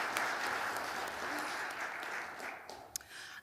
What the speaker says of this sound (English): Can we get a round of applause for our second interpreter of the evening?